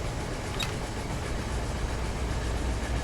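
Steady rumble of a freight train picking up speed in Run 8 Train Simulator, a continuous broadband engine and rail roar with no distinct events, alone.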